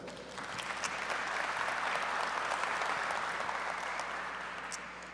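A conference audience at a voice-technology summit keynote claps for a speaker, a broad, sustained sheet of applause that swells, holds steady, then eases slightly near the end, with no talking.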